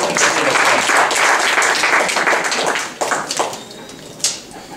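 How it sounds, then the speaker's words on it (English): Cub Scout roundtable audience applauding after a group activity, a loud burst of clapping that fades after about three seconds into a few scattered claps and a final clap. "Give them a round of applause."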